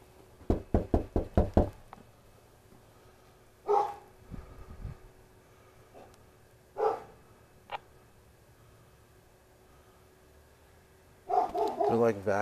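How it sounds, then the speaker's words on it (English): Several sharp knocks on a house door, heard first as a quick burst of raps and then again as scattered single thuds and another short burst, fairly faint and distant. A bounty hunter capture is underway. "Knocking."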